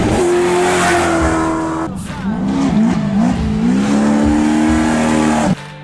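A race car launches and accelerates hard, its engine note climbing, dropping at a shift, then rising again with tire squeal, loud and close, before cutting off abruptly.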